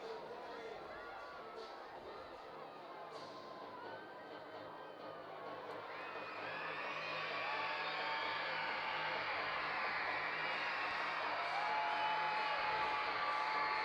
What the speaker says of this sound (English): Crowd making a little bit of noise.